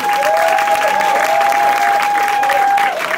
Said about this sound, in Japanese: まずは先行、こちら TF 東京フットワークスで良かったと思う拍手